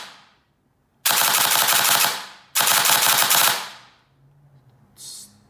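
A T238 V1.6 gel blaster with a mosfet installed fires in binary trigger mode: two loud, rapid-fire bursts of about a second and a half each, separated by a short pause, then a brief softer burst.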